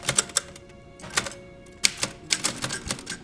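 Keys clacking on an old mechanical typewriter in short irregular bursts with brief pauses, crisp and close, with no voices.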